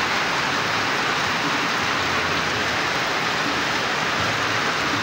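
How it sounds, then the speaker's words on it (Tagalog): Heavy rain falls steadily in Camarines Norte, a dense, continuous hiss of downpour that stays loud and unchanging throughout with no voices. "Ang lakas ng ulan."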